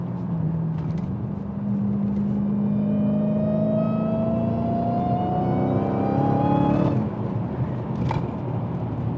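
A Dodge Hellcat in track mode revs under partial throttle, its loud, close engine note climbing steadily in pitch with a deep rumble, then dropping back before a brief sharp burst near the end.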